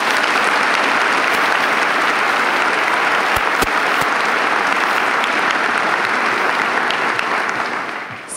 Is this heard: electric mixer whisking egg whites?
no